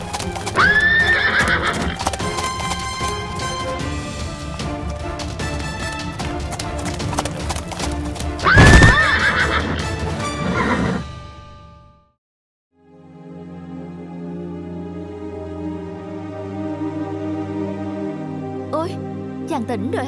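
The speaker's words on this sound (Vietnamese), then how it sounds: "Đi ra mau, con ngựa lười biếng này." A horse in an animated folk-tale film whinnies loudly twice while its hooves clip-clop steadily throughout, with a brief pause near the end before the hoofbeats resume.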